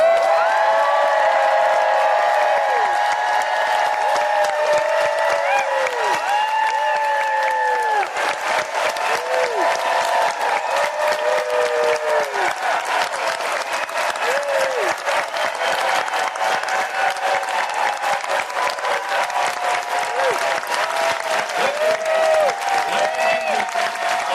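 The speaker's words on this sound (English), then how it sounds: "We're going to get the crowd screaming" A San Diego Comic-Con convention crowd screams, whoops and cheers for William Shatner, with loud sustained applause and high shrieks throughout, dense and continuous from start to finish.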